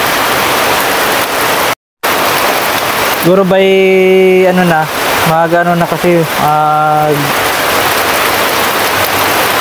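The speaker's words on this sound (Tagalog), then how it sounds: "biglang buhos na naman yung malakas na ulan" Heavy rain pours steadily over a calamansi farm, a dense continuous roar of water, briefly cut out, while someone speaks over it partway through.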